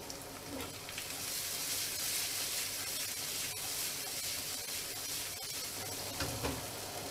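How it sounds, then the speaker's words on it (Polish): Steady, even sizzling of eggplant frying in hot oil, a continuous crackling hiss with a few faint clinks. "a później bakłażany na gorący olej"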